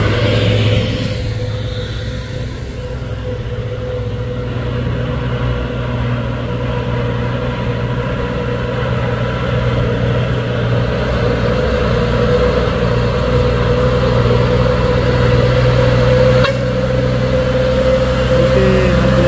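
Mitsubishi Fuso Fighter tank truck engine rumbling steadily as it passes, a continuous low drone with a sustained mid-pitched tone, loud and close, no talking.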